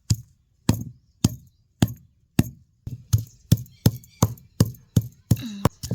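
A knife finely chops coconut, garlic, cumin and coriander on a board, about a dozen sharp, close chops that start spaced apart and speed up into a quicker rhythm.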